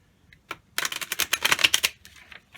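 Tarot cards are shuffled by hand, with a short tap and then a quick burst of crisp, rapid riffling flicks close by. A few softer snaps follow before it quiets.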